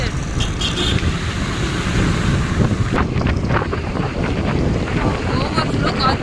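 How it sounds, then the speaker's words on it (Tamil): Strong wind buffets a phone microphone during a motorbike ride along a Chennai industrial road, a loud continuous rumbling roar with gusty fluctuations and traffic noise beneath, while someone talks over it. "ஓவர்ஃப்ளோ காற்று, என் ஃபோனே தள்ளி விடுது காற்று"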